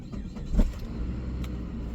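A Saab 9-5 pulled from a junkyard, running on its own engine, gives a low, steady rumble close by with a few faint creaks and mechanical clicks over it.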